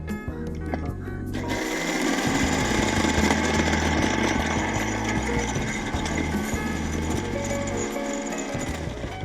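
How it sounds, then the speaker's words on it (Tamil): A kitchen mixer blends bread, honey and condensed milk into a milkshake, whirring loudly and steadily with brief pulses and changes in pitch. The sound is close and continuous, and a voice talks faintly at the start. "வந்து இதை அப்படியே மிக்சியில் போட்டு நல்லா பிளெண்ட் பண்ணிடலாம்."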